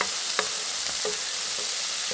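Kanthari chillies dropped into a frying pan, a steady close hiss of sizzling oil with a few faint pops and stirring scrapes, no talk.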